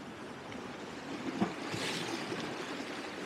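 Waves splashing and washing onto the rocky shore at Elgol, Scotland, a steady rushing wash with one brief sharp splash, fairly faint and with no talk.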